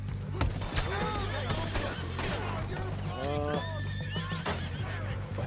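Horses whinny repeatedly in the video game Red Dead Redemption 2, over a dense, noisy background with a low steady hum and the occasional thud of hooves.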